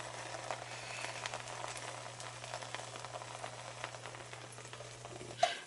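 Three beaten eggs for an omelette cook in a large frying pan, giving a faint, soft crackling sizzle over a low steady hum, ending with a slight knock; no talking.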